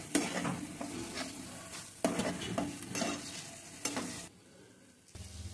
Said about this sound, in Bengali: পেস্টটা ভালো করে কষিয়ে নেব